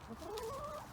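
Chickens on an allotment give a short, close burst of clucking, one hen's rising call standing out clearly with no talk.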